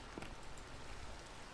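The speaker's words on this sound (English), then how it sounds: "Let's go ahead and sleep and get rid of this rain." Steady rain in the Minecraft Sky Factory 3 modded video game, a faint, continuous hiss of falling drops with no other sounds.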